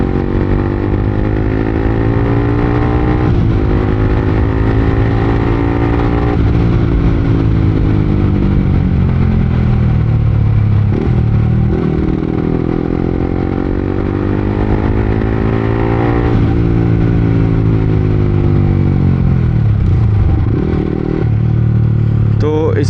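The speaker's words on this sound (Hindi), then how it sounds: "आप लोग तब तक एग्जॉस्ट नोट सुनो।" 2018 BS4 Yamaha R15 V3 motorcycle with an aftermarket Akrapovic exhaust, loud and close, revving repeatedly with rising and falling engine pitch and throttle blips over a continuous rumble, with no talk.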